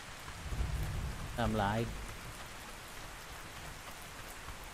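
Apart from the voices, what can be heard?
rain falling in the video game ARK Survival Ascended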